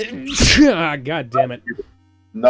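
A single sharp sneeze bursts out loud and close near the start, followed by a voice talking in a casual podcast setting.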